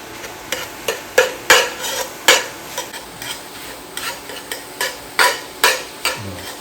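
Rice is stirred into a pot for Louisiana dirty rice dressing, making a series of close, scraping strokes with sharper clacks of spoon against pot, about a dozen uneven beats with no talking.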